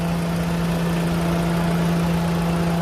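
A 2000cc BMW 318i E46 engine idles smoothly and steadily, a close, constant low hum with a strong even drone and no other sounds over it.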